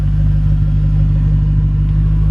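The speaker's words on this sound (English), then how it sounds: "It's got the Borla exhaust that's specifically made for the convertible, so it's not so loud, it's droning inside, but when you get on it you can really hear the exhaust" A 2009 Shelby GT500 convertible with a Borla exhaust and a 2.8 Whipple supercharger idles in a loud, deep, steady drone, close up and unchanging with no revs.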